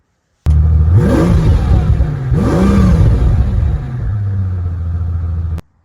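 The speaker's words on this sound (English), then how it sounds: "this is a Brabus exhaust. Revving clip incoming." A Brabus exhaust note rises in two revving sweeps, the engine swelling and falling back, then settles into a steady rumbling idle before cutting off, loud and close.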